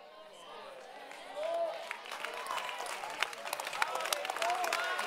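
A church congregation at a prophetic service claps, scattered and uneven at first, then building into thicker, livelier applause, with voices heard among the crowd.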